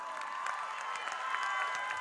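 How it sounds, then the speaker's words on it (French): A crowd applauds and cheers at a high-school music festival in the Zénith concert hall in Toulouse, a steady, fairly distant roar of clapping with scattered shouts, sustained from start to end. "On l'applaudit encore."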